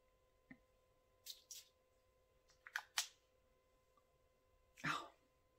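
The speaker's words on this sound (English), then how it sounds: "I'm going to spray some more on." Perfume atomizer spraying an inexpensive Yves Rocher Nouveau Genre fragrance in several quick close hissing bursts, two pairs and then one longer final spray, in an otherwise quiet room.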